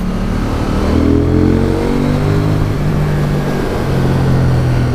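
A KTM 790 Duke motorcycle engine with stock exhaust drones steadily with a rising and falling exhaust note, loud and close, no voices.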